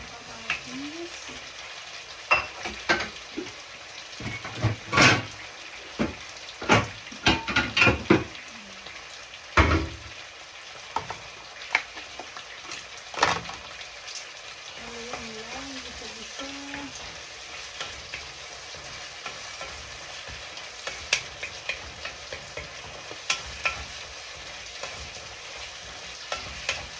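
Tomatoes and onion sautéing in a pan for pinakbet, with steady soft sizzling and frequent stirring scrapes and clatters throughout, close up and fairly quiet.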